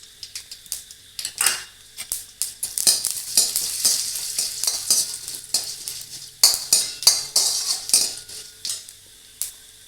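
Mustard seeds and urad dal crackle and pop sharply in hot oil, a dense run of close spluttering bursts with clinks of a utensil, rising and falling in waves with no talk.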